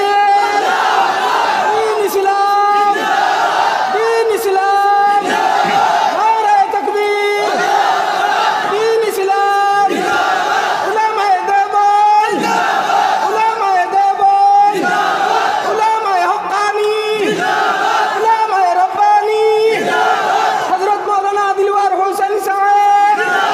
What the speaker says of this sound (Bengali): নারে তাকবীর!